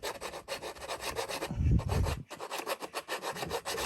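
Hand file rasping across wood in a woodworking shop, a close, rhythmic series of rough back-and-forth strokes with a brief pause partway through.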